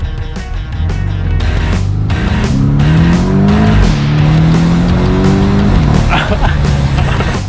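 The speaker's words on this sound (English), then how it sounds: "we're gonna do a 0 to 60 launch" A Porsche 718 Boxster in sport mode launches from 0 to 60, its engine roaring close and loud as it climbs through rising revs and gear shifts. Speech and excited voices can be heard under the engine noise.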